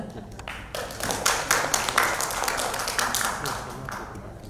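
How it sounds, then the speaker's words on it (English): An audience at an academic conference paper session breaks into scattered clapping after the last presentation, starting abruptly and holding at a moderate, uneven level. "Give the big applause for our success."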